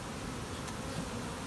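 Honey bees hum in a steady, dense drone during an open hive inspection, a continuous close buzz with no pauses and no voices.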